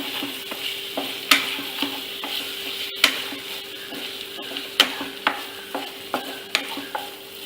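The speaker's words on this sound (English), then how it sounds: "just put everything in there and continue to saute" Tomatoes and masala for a Chettinad chicken gravy sauté in a pan. A steady sizzle runs under repeated clicking strokes of a spoon against the metal, close and fairly quiet, with no talking.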